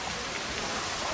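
Rushing water from a waterfall stream at Curug Lontar or Curug Pangeran near Leuwiliang, Bogor, a dense, even hiss of flowing water filling the whole moment with no voices.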